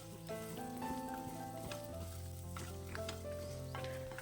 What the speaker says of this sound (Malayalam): പരിപ്പ് ഈ അടിയിലടിയിൽ വരുന്നത് കാരണം നല്ലവണ്ണം ഇത് ഇളക്കി കൊടുത്തോണ്ടിരിക്കണം